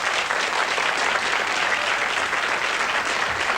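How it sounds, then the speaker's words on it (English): Studio audience on a television quiz show claps steadily for the contestants, a continuous, even wash of applause heard alone. "Give them a round of applause, please."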